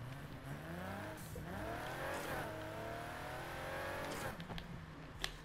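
A Porsche in Need for Speed Heat drives under a steady engine drone with rising gear sweeps as it accelerates and shifts, a few sharp transients near the end, no talk.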